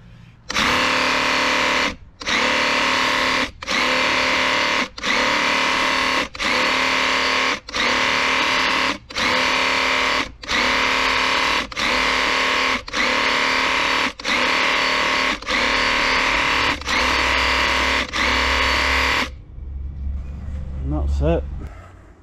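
A Graco Ultra handheld airless paint sprayer, turned down to about setting 7 for a small touch-up job, buzzes loudly and close in about a dozen short, evenly spaced trigger bursts, then falls silent apart from faint handling noise.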